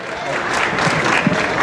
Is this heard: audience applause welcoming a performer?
yes